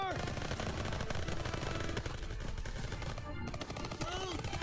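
Rapid bursts of gunfire from a weapon in Call of Duty WWII, dense overlapping shots rattling loudly almost without pause, with background game noise and a brief dip near the end.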